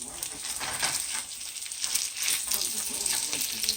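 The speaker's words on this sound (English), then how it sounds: "you have to fry them till them golden brown on the other side" Jamaican bammy cassava cakes fry in hot oil with a steady, crackling sizzle that stays close and even throughout, with faint clinks and a hint of voices in the background.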